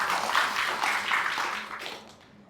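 Audience applause at a ceremonial opening event, a moderate wash of clapping in gentle surges that fades away over about two seconds.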